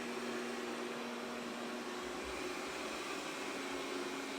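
Xiaomi Mi Robot Vacuum, first generation, running in its Full Speed suction mode, giving a steady close whirring hum with a constant tonal whine and no speech.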